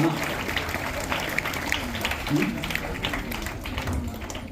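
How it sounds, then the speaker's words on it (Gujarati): An audience gives an even round of applause for prize winners at a village Independence Day celebration, with a voice talking over the clapping throughout. "આપણે ચાલો તાળીઓથી વધાવીશું ભાઈ ઇનામ"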